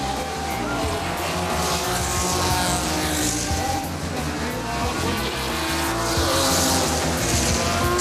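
Ferrari race cars, including a classic 250 GTO, roar loudly and continuously through the narrow curves of a chicane in group formation, with engine notes rising and falling and faint tire squeal.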